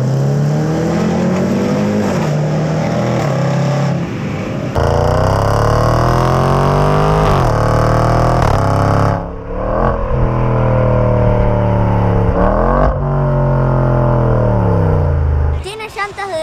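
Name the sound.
Range Rover SVR engine revving with special sound system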